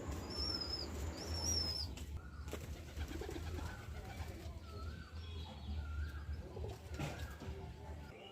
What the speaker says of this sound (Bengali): বাচ্চাটা খাওয়ার জন্য কীরকম ওর মার পিছনে ঘুরঘুর করছে